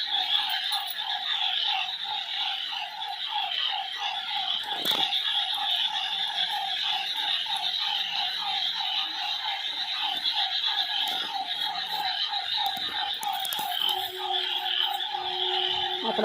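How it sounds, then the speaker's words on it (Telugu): Dense chorus of frogs croaking after two days of rain, where water pools in a low spot, a steady rapid pulsing of many calls that continues throughout with insect-like hiss behind. "ఇంకా కప్పలు."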